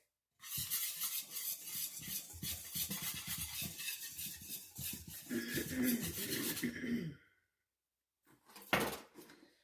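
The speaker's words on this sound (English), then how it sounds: "We'll mix it first with a whisk." A whisk beats liquid ingredients for grain-free, sugar-free brownie batter in a bowl, giving fast, rhythmic scraping and clinking strokes that run for about seven seconds, stop, then return in a brief final burst.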